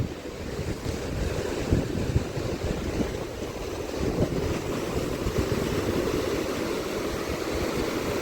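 Steady roar of ocean surf with waves washing continuously, buffeted by strong wind noise across the microphone; no voices.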